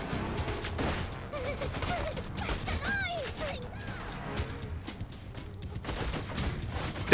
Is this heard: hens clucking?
no